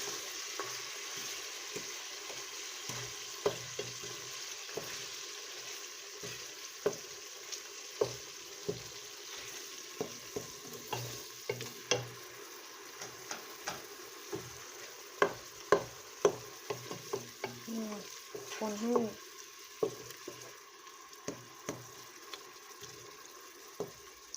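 Tomatoes seasoned with pink salt cook in a pan with a soft, steady sizzle, while a utensil stirs through them in repeated irregular scrapes and taps; close by, no talking.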